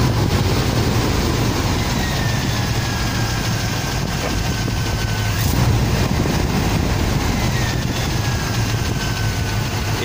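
A Chevrolet 350 TBI engine idling cold, with a steady mechanical hum and noise that fit valve lifter ticking, although no distinct tick can be picked out.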